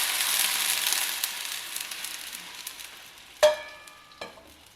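Steady crackling sizzle of water poured into hot oil seasoned with hing, with a couple of sharp spatters near the end, no voices.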